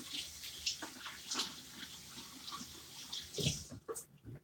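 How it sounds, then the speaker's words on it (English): Hands are washed under a running kitchen tap, a quiet steady splashing of water with some rubbing and rinsing, heard from a short distance. "I need to wash my hands real quick."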